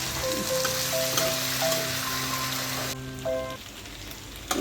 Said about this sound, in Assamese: এতিয়া মোৰ এয়া বুট ভাজি হৈ গ'ল